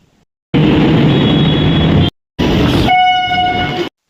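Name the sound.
fast local train at Churchgate station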